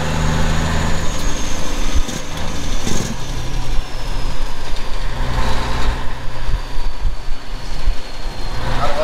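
A 1997 Kenworth T800 semi truck with an 18-speed and CAT 3406E engine drives close by, its loud, steady diesel rumble broken by repeated barking bursts of jake braking.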